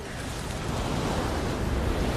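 Waves at a seashore, a continuous rolling wash of surf with wind, steady and moderately loud with no voices.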